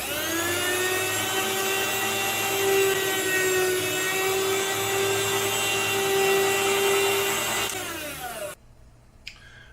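Ostba 200W electric meat slicer cutting 5 mm slices, a loud sustained motor whine with a grinding blade tone that drops as the motor winds down and stops, followed by a brief faint click.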